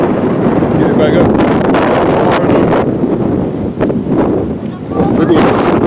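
Strong gusting wind buffets the microphone outdoors during kite flying, a loud continuous roar that swells and dips, with people talking faintly underneath.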